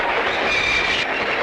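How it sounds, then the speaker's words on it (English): Steady rumbling clatter of a train passing in a 1960 vintage cartoon, loud and continuous across the whole moment with a faint high squeal riding over it and no voices. "That train was on a siding."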